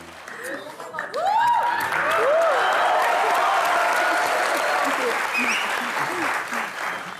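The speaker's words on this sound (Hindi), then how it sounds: "मैं चाहूंगा कि जोरदार तालियों से स्वागत कीजिए the most beautiful Poonam Dhillon जी के लिए।" A studio audience at a televised comedy show cheers and applauds strongly to welcome a celebrity guest, a loud sustained wash of clapping with whoops and voices mixed in, plus rising music tones.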